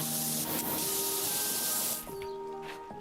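Steady broadband hissing spray from a pressure washer in the Power Washing Simulator 2 video game, loud and continuous, easing slightly partway through with faint tonal game sounds underneath.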